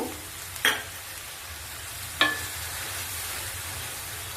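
Spice masala fries with a little added water in a pan for an onion curry, a soft, steady sizzle broken by two sharp scraping stirs of a spatula.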